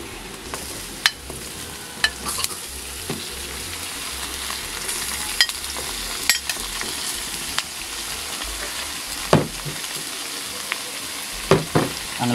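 Chicken feet fry in hot oil with garlic, giving a steady close sizzle broken by scattered clacks and scrapes of stirring in the pan.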